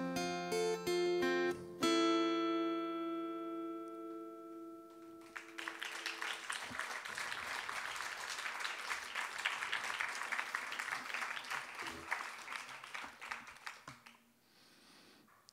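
Audience applause fills a rock club concert hall after a song's final sustained chords die away, a dense crowd of clapping that swells, holds steady for several seconds, then thins out near the end.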